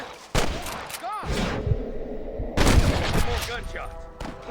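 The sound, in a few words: gunfire in video game Red Dead Redemption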